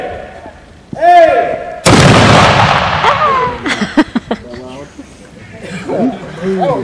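Civil War reenactors fire muskets in a single loud volley, a sharp blast followed by a decaying rumble, with people talking and shouting before and after.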